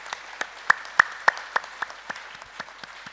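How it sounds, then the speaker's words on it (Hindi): An audience clapping, heard as a sparse series of sharp, evenly spaced claps that peak early and then thin out toward the end. "एक बार बुद्ध भगवान के लिए, ओ तथागता के लिए एक बार जोरदार तालियां।"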